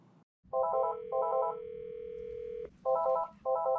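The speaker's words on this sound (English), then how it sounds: "Enter the extension number and press dial." Keypad tones from a Polycom VVX450 desk phone: short dual-tone beeps for each digit, then a longer steady tone, then two more beeps, all clear and close.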